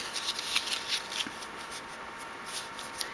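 Cardstock being folded and creased by hand, soft rustling and sliding taps repeating close by in a quiet room, with no talk.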